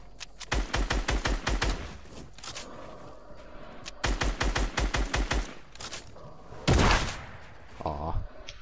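Rapid automatic gunfire in Fortnite, two long bursts of loud, clattering shots aimed at a floor, followed by a heavier single blast and a short rattle, with excited voices talking over it.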